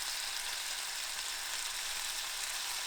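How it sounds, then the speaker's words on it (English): Bacon slices sizzle on a stovetop burner set to medium, giving a steady, even frying hiss that runs unbroken, close and fairly quiet, with no voices. "while the bacon's grilling over here"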